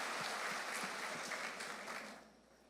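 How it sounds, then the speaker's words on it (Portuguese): A church congregation claps in a brief burst of applause heard from a distance at low level, fading out toward the end. "Vamos aplaudir o Senhor mais uma vez pela vida dele?"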